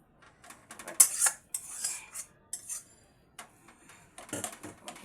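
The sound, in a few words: cooked radish being poured and scraped into a dish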